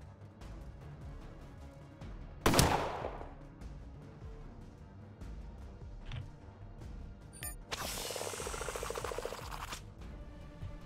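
Gunfire in the Colony Ship RPG, a sharp single shot followed by a quieter pop and then a longer crackling burst, set against a low background hum.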